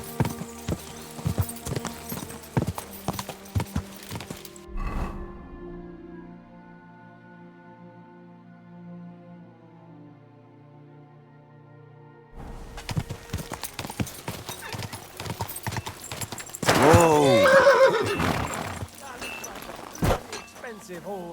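Hooves clip-clop as a horse gallops in Kingdom Come: Deliverance II, with loud neighing near the end; a quiet gap in the middle and some speech-like voice sounds around the hoofbeats.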